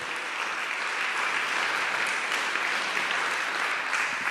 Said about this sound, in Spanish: Dele un aplauso ahí al Señor.